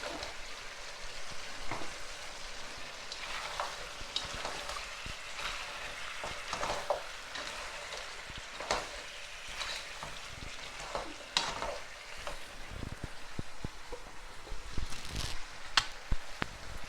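Carrots stirred in a frying pan for chicken curry: a continuous sizzle with repeated scraping and clacking strokes of a utensil, close and fairly loud, no talking.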